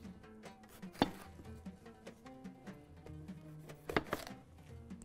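Knife chopping capsicum into chunks on a cutting board, a series of soft, irregular close taps with a couple of sharper louder chops, quiet and alone without talk.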